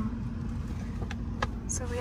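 Car interior while driving in Las Vegas: a steady low engine and road drone, with a few brief clicks and voices talking in the cabin.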